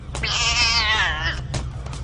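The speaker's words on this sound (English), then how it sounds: "Cat!" A cat gives one long, drawn-out meow that rises and then falls, loud and close, followed by a couple of short soft sounds over a low steady background hum.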